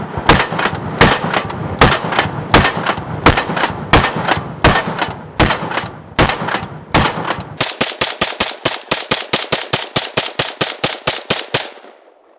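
A Zastava ZPAPM70 AK rifle firing outdoors in the snow, with a steady run of evenly spaced loud single shots followed by a faster string of sharp, crisp reports that ends abruptly.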